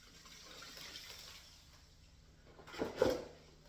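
Water washes down a gold prospecting bucket in Wisconsin as a faint, quiet trickle that ends in a brief splashing gush near the end, with no talking.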